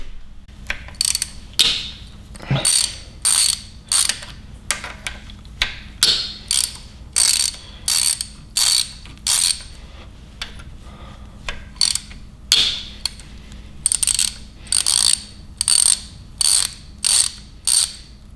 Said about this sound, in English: Grab yourself your T30 and let's remove these 4 bolts next.